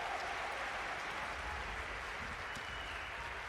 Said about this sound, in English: The crowd appreciating that.